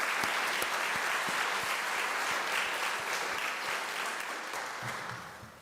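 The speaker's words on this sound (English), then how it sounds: "join me, please, in giving them all a round of applause" Sustained audience applause at a college alumni induction ceremony, a dense, steady wash of many hands clapping that fills the room and tapers slightly toward the end.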